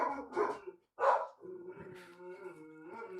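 Several dogs bark outdoors in sharp, uneven bursts, with a loud close bark followed by quieter, drawn-out yips and howl-like calls, without any talking.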